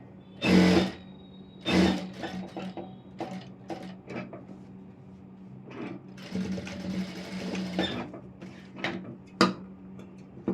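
A sewing machine stitches a hook strip for an Aari work blouse in short separate bursts, loud and close, with quieter handling noises between runs and a longer stretch of stitching near the end.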